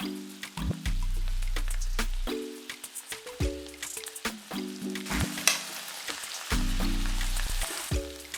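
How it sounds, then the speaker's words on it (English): Pak choi and sweet peppers sizzle and crackle in a hot pan, a steady bed of frying hiss with occasional pops, alongside low droning tones and scattered clicks. "Add your prepped vegetables, Pak Choi, sweet peppers, yes, all into the pan."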